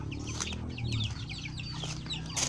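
Ducks held in a cage call with busy, overlapping quacks and clucks, close and continuous.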